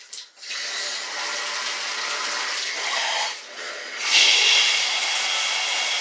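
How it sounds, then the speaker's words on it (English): A Power Spa LED shower head sprays water in a steady, hissing broadband rush that runs the whole time, with a brief dip partway and a louder surge near the end as the flow shifts. "I'm going to go ahead and turn the water on"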